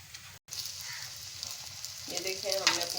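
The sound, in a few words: egg and potato balls frying in hot oil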